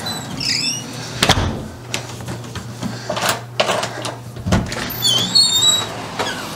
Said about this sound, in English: let's test the door out.